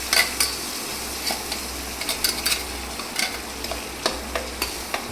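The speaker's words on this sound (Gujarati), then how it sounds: "હવે એને આપણે હલાવવાનું વ્યવસ્થિત રીતે." Gravy with asafoetida (hing) being stirred in a pan: a steady low sizzle with repeated soft scraping strokes of a spoon against the metal, close and moderately loud, no talking.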